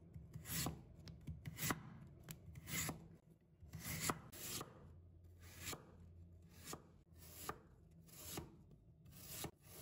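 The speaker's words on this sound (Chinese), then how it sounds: "然后我们改刀把它切成薄薄的厚片" A knife slices radish into thin pieces on a board, giving a rapid series of crisp chopping strokes in an uneven rhythm, close and moderately loud, with no talking.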